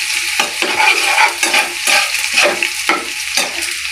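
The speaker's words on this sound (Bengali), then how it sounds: "এই যে আমি পেস্টটা দিয়ে দিয়েছি, এবার আস্তে আস্তে অনবরত নাড়াচাড়া করব।" A spice paste frying in hot oil in a pan hisses steadily while a spoon stirs it in repeated scraping strokes, close and loud, with no voices.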